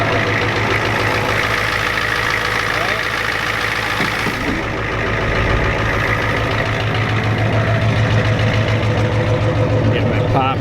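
A 1993 Ford F-250 pickup with a 7.3 IDI diesel engine rumbles at a steady idle with a low clattering throb throughout, close and loud, as someone talks over it.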